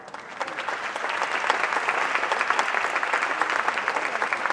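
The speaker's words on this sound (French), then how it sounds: "Un très gros applaudissement pour Pascal." A festival audience breaks into applause, a steady crowd of clapping hands that swells slightly and holds at moderate loudness throughout.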